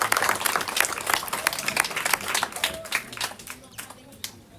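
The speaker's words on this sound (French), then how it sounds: "Et je crois qu'on peut l'applaudir pour ça." An audience applauds the mayor at a ceremony handing over new classrooms at a middle school. Dense, lively clapping from many hands is loud at first and thins out toward the end, with some crowd noise mixed in.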